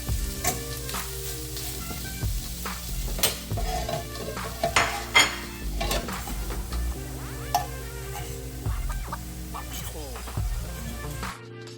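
Korean bulgogi beef fries in a hot pan with a continuous sizzle and repeated clinks and scrapes of utensils against the pan, fairly close and moderately loud.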